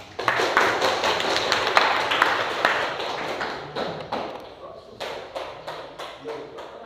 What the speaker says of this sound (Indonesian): Beri aplaus untuk Putri Faiza Tunisa.